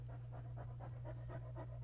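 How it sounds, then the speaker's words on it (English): A dog curled at the base of a statue pants in a quick, steady rhythm of about seven breaths, close and fairly loud over a constant low hum. "The dog curled up at the base of the statue, whimpering"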